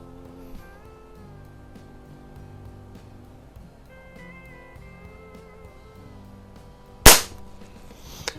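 A single sharp crack from a Walther LGR air rifle fired at a target during sporting rifle league practice, sudden and loud over a quiet room hum with tonal background sounds and no talk.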